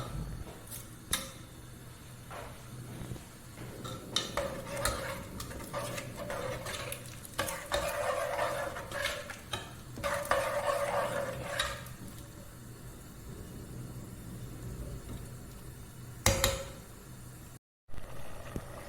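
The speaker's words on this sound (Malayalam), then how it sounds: "ഇനി ഇതൊന്ന് തിളക്കട്ടെ." A thick gravy bubbles and simmers in a pan, soft steady popping with occasional louder spoon scrapes and clinks against the metal.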